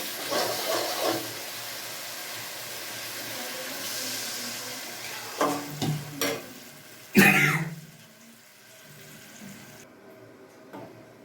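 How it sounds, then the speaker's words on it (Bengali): Water poured into a hot pan of Bengali fish curry (macher jhal jhol) whose oil has separated, giving a sudden loud burst of sizzling that settles into a steady steaming hiss, with softer stirring and scraping before it. "তেলটা ছেড়ে দিয়েছে, এবার আমি জল দিয়ে দেবো"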